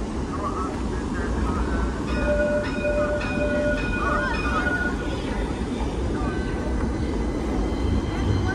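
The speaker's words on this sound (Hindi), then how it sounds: "तो ये दूसरी ट्राम जा रही है।" A tram rumbles past on a Stockholm street, its wheels and motor making a steady rolling noise with faint squeals from the rails, set against city background sound.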